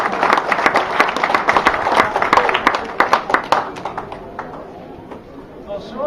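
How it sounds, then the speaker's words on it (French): A crowd applauds at a town parade ceremony of local associations in Le Carbet, with dense, lively clapping that swells and then thins out toward the end. "Je vous demande d'applaudir bien fort."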